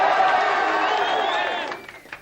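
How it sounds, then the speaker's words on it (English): Studio audience cheering and calling out at the final of a 1993/94 Gamesmaster team championship TV game show: a steady, dense wash of crowd noise that fades off toward the end. "Give them a cheer, come on, caretaker."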